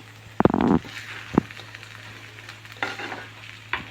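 Coconut paste is stirred into taro leaf thoran frying in a pan, with a few sharp scraping clatters of the spoon against the pan over a soft, faint sizzle, heard up close with no talk.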